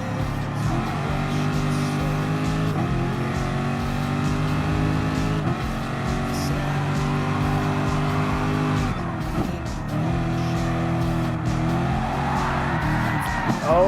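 Race car engines in Gran Turismo Sport while passing two BMW M6 Gr.3 cars in an hour-long Le Mans race, a steady loud engine drone with gear-shift pitch sweeps and tire squeal, continuing throughout with faint talk underneath.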